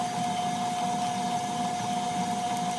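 Stand mixer running steadily as an egg is beaten into cream puff choux dough, a continuous motor whir with a sustained tonal hum, close and even throughout with no talking.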